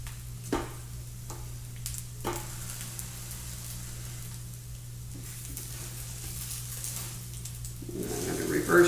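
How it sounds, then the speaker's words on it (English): Savoury French toast fries on a hot griddle with a steady, soft sizzle, broken by a few sharp scraping and clattering touches as the slices are moved, and a louder hiss flaring up near the end. "Oh, there's a nice sizzle there."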